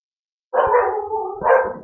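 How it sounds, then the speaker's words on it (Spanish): Dogs barking outdoors: two bursts of barking, the first at about half a second and the second a beat later, moderately close and fairly loud, with no talk over them. "y justo ladran ahí los perros"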